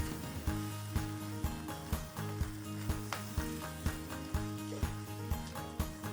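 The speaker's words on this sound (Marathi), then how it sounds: "मी टोमॅटोची प्युरी केली ती घालणार आहे. याला पण परतून घेते." Tomato puree for paneer tikka masala sautés in a pan with a soft, low sizzle, while regular rhythmic thumps and a steady tonal hum, likely background music, sit over it.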